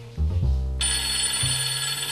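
A telephone bell rings loudly and steadily, a bright sustained electronic ring that fills the short moment with no talking over it.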